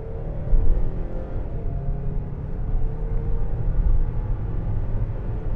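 Inside a Mazda CX-5 2.5 Turbo accelerating hard from 40 to 120 km/h, a deep, steady engine and road rumble drones throughout, swelling slightly as speed builds.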